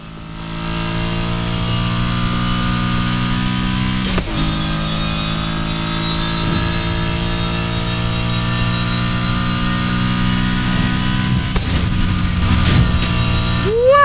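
A car engine in the video game Need for Speed Heat drones steadily with a rich, rumbling tone, briefly dipping and surging a few times before revving near the end.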